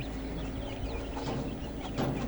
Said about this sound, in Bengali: এটা আমার দেশি মুরগির বাচ্চা